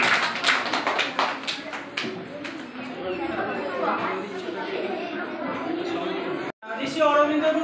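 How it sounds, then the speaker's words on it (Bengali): Children clap at a primary school quiz in Syedpur, a burst of quick scattered claps at the start that fades into chatter and voices in the room. "সবাই জোরে হাততালি।"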